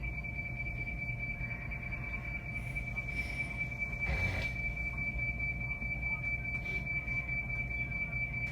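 A JR West 225-0 series special rapid train halted at Ritto Station after an emergency stop, with a steady high-pitched alarm tone sounding continuously over low rumbling train and platform noise, and a brief clunk midway.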